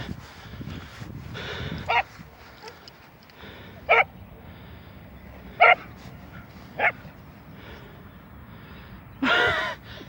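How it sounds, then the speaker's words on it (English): A dog barks at birds while holding a ball in its mouth, giving several short, muffled woofs spaced a second or two apart, with a longer burst near the end, over quiet outdoor background. "This dog here is just barking with a ball in its mouth at the birds."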